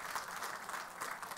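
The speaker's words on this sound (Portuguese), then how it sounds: "Peço uma salva de palmas também para o Ricardo." Applause at a Telebrasil telecom industry panel on the Internet of Things, a steady, moderate wash of clapping from a conference audience that carries evenly through the moment.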